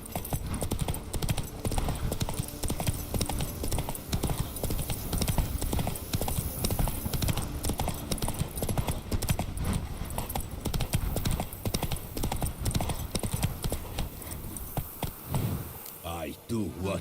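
A horse gallops in Witcher 3, in the Toussaint region, with rapid, continuous hoofbeats that stay loud and close throughout; a voice speaks faintly over them.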